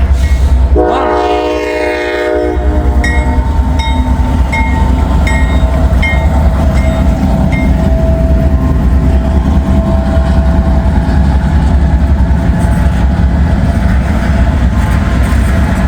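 An Indiana and Ohio freight train sounds its horn loudly and close by in a long multi-tone blast near the start, then its cars roll past with steady rumbling and clacking for the rest of the stretch.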